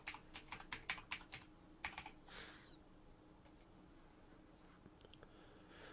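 A password being typed on a computer keyboard: a quick run of about a dozen crisp, close key taps, a short pause, a couple more taps and a brief rustle, then near quiet with a few faint, scattered clicks.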